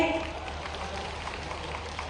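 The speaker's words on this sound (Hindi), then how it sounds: "एक बार जोरदार ताली मोहन जी के लिए भाई" An audience at a tribal student encouragement ceremony gives loud applause for Chief Minister Mohan Yadav, heard as a dense, steady wash of many hands clapping at once.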